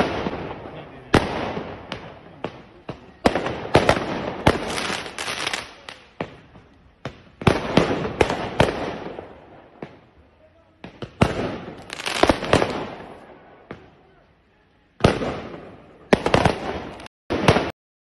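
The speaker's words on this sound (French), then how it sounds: "vous avez des flics du coup qui se font tirer dessus avec des feux d'artifice" Fireworks are fired at police during a riot in Lausanne, a rapid barrage of sharp cracking bursts and crackles coming in dense volleys with brief lulls between them.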